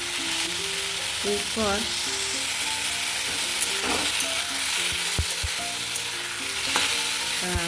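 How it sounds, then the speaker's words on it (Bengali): Sliced ridge gourd sizzles steadily as it fries in a pan, with repeated stirring scrapes and clinks of a utensil over the constant frying hiss, while someone talks briefly over it. "দেখো ভালো করে নাড়াচাড়া করে নিচ্ছি।"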